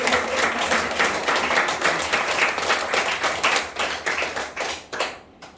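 A church congregation in Korea applauds during a sermon, a loud, sustained round of clapping that thins out and stops near the end.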